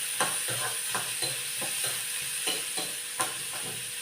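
Sliced onion sautés in hot oil in a fish-frying kitchen, a close continuous sizzle broken by regular scraping stirs roughly every half second, with no voices.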